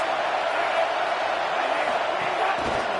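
A stadium crowd at a football game roars steadily for the defense on a big third down, a dense, continuous wall of cheering heard from within the stands.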